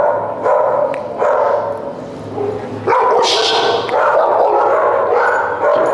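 Dog at a training seminar barking repeatedly in sharp bursts, close and loud, over a noisy room with a few yips mixed in.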